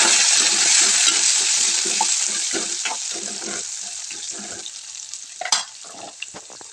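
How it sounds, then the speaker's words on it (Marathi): Chopped spinach sizzles and sputters as it is stirred in hot oil in a home kitchen pan, a steady loud fry with spoon scrapes and clinks throughout. "मस्त असं तेलामध्ये आपल्याला ती पालकची भाजी जी आहे परतून घ्यायची"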